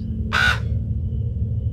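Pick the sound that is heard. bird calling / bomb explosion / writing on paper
bird calling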